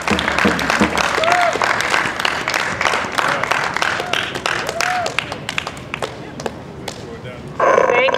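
A crowd claps together in unison, sharp beats that gradually quicken, with voices and cheering underneath.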